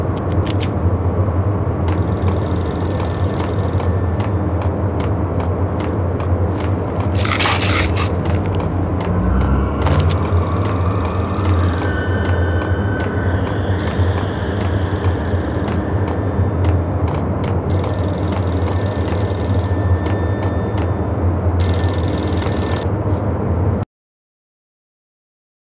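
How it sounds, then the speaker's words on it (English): A telephone rings in Max Payne on PS2/PS4 amid a constant low mechanical drone, with bursts of ringing repeating at intervals before the sound cuts off abruptly near the end. "Phone started to ring."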